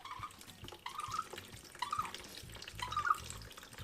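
Water pumped by hand through a Lifesaver Liberty water filter bottle: close, fairly quiet splashing and gurgling surges that come in regular pumping bursts about once a second.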